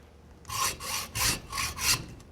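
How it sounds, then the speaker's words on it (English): A hand saw cuts through a carbon road bike fork steerer tube between the crown race and the slot, giving five steady rasping strokes in an even back-and-forth rhythm, close and loud, with no talking. "I'm cutting from the fork crown race to the slot."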